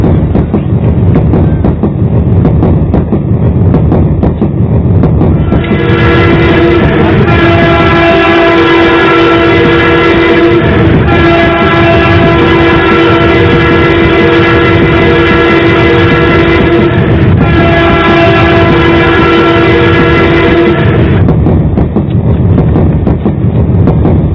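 A train rumbles past with a steady rhythmic clatter, its loud horn blaring in long sustained blasts with brief breaks, close and dominating throughout.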